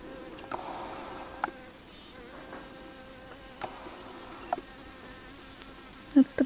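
A blue-banded bee buzzing around a begonia in a courtyard garden in early winter, a faint, wavering hum drifting in and out against quiet outdoor ambience with a few soft clicks.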